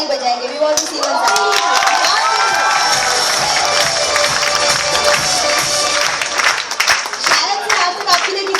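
A seminar audience breaks into loud clapping, cheering and shouting for themselves, a dense crowd roar that swells and holds over several seconds, with voices mixed in.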